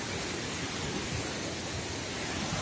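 The Curug Cilember waterfall, swollen after heavy rain, gives a constant, full rushing roar with no pauses.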